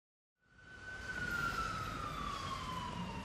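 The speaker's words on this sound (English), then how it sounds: "It sounds like an ambulance." Ambulance siren rising in and holding a steady, loud wailing tone, with a slowly falling pitch as it passes, heard on its own with no talk.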